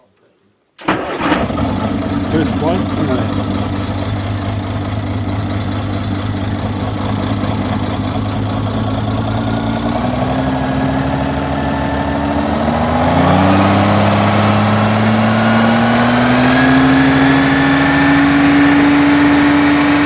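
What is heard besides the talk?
Commer TS3 engine starting and idling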